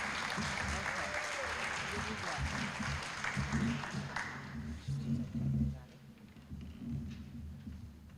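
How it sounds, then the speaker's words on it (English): An audience at an educators' awards banquet applauds in a hall, a dense wash of clapping that carries for several seconds before fading, with talk and murmur underneath. "We applaud you."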